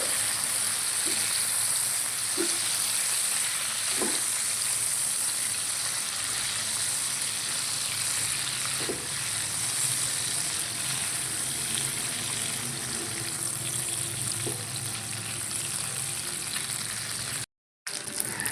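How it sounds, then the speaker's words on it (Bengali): Chicken pieces frying in butter and garlic, a continuous dense sizzle close up with a few faint knocks of stirring now and then. "এবার আমি চিকেনের পিসগুলো এতে দিয়ে দেবো। দিয়ে একটু নাড়তে হবে।"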